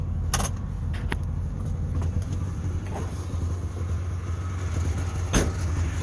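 A smoky two-stroke car driving: a continuous low engine drone and road rumble with a few brief sharp clicks, heard up close from inside the car.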